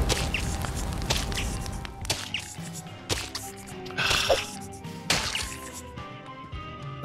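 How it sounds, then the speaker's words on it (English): Spiders splat wetly in the Kill It With Fire video game, a string of squishy, slapping bursts spread across several seconds over a dense, steady game background. "And you just hear them all splat."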